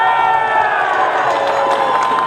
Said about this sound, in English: Give that a cheer.